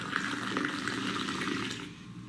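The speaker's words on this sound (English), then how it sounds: "And this is how we serve the tea." Moroccan mint tea poured from a pot into a glass, a steady close liquid splash and trickle lasting about two seconds before tailing off.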